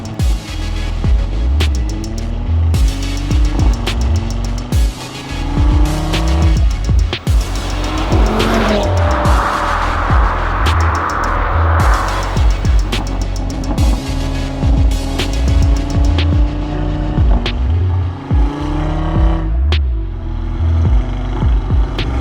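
An Audi RS3 drives hard with a loud, close engine note that rises and falls through repeated gear changes, plus a patch of tire noise midway, and no talking.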